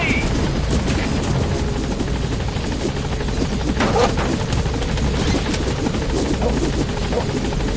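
A helicopter lifting off in the video game Metal Gear Solid V, steady rotor thrum under bursts of gunfire and other combat noise, with a voice speaking over it.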